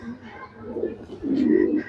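Champion racing pigeons from a tournament loft, a father, mother and son, coo in low, soft rolling bursts, one brief murmur followed by a fuller, louder coo near the end, heard close up.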